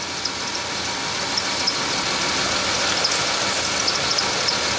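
A noisy idler pulley on a running Chevy Venture engine gives a steady, dense whirring and hissing hum, close and fairly loud, with faint chirps riding on top and no voices.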